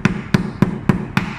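A hammer drives a nail into wood with six sharp, evenly spaced strikes in quick succession, loud and close by, with no talking.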